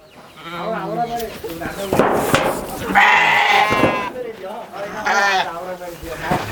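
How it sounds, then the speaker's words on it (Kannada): Sheep bleat repeatedly and loudly close by at a rural village house, several overlapping calls in bursts, with people talking in between. "ಇವೇ ಸರ್ ಗಿಲ್ಲಿ ನೆಡೋರು ಕುರಿ"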